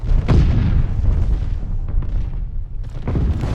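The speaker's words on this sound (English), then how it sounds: "Throwing stun grenade." A stun grenade goes off in Call of Duty Vanguard, with loud booming blasts and a dense, rumbling wash of battlefield noise, a sharp burst near the start and another toward the end.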